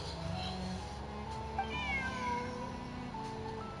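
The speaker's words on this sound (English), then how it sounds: "Bonnie is Pierre's cat." A cat meows in the video game Genshin Impact, a short wavering call rising midway through a quiet background hum.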